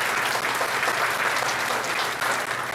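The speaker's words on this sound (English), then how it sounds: "Another round of applause." Audience applause at a graduation ceremony, a steady dense wash of clapping from a crowd that holds evenly throughout with no voices on top.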